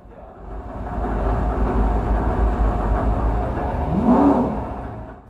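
Race car engine on a track in a pro-grade racing simulator, rear-wheel drive, a steady loud drone building to a rising rev swell near the end.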